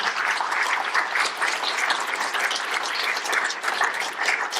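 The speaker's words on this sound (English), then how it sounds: "can I get everyone to please put a round of applause for our incredible survivors" Sustained applause from a large audience for survivors at a Genyus Global Survivor roundtable, dense, steady clapping filling the whole stretch without a break.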